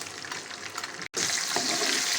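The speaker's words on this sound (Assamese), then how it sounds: "এয়া মই পিঁয়াজখিনি অলপমান ভাজি লৈছোঁ।" Onions frying in hot oil in a pan for chilli paneer make a close, steady sizzle, broken by one very brief gap, with no talking.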